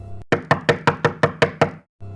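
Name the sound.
knocking on a door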